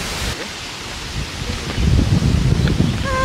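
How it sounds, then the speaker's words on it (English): Gusty wind in Melbourne, Australia buffets the microphone in rough, rumbling bursts that grow stronger toward the end, with no voices. "Angin di Melbourne tuh kayak gini nih guys."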